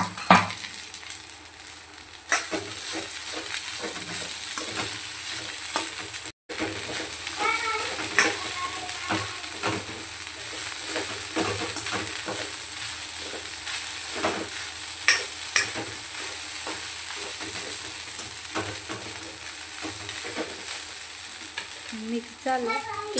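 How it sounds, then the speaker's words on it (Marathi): Sago pearls tipped into a frying pan for fasting sabudana khichdi are stirred, giving close scraping and rustling strokes over a low sizzle, with a short silent gap early on. "आता यात आपण साबुदाणा ॲड करू."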